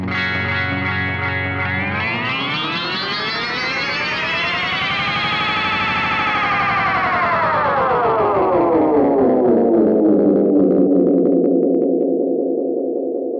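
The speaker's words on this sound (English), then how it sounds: "So this one is called natural. Apparently it produces a natural effect to match the echo that you've set." A G chord strummed on guitar rings out through a BOSS RE-202 Space Echo set to natural mode on tape head 2, swelling into a dense, sweeping wash of repeats that rises, bends and settles into a steady sustained tone, loud and continuous.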